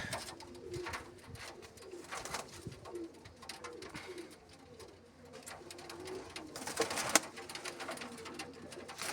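Pigeons coo repeatedly in a loft, soft throaty calls overlapping at close range, with wing flutters and scattered rustling throughout.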